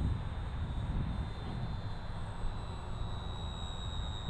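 An E-Flite P-51D 1.2 m electric RC model plane on a 3S battery flies at half throttle, giving a continuous even drone with a thin high whine that holds steady throughout.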